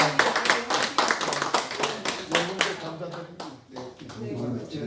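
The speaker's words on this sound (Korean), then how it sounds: "우리 박수로 한번 감사합니다" Brief clapping from a small group closing a press conference in a party office, sharp uneven claps with people talking over and after them.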